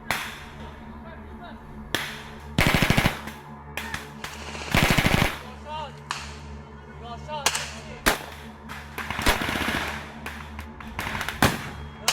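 Machine gun cover fire from a military training exercise plays as loud, rapid bursts of automatic gunfire, with several separate volleys and scattered single shots over a steady background.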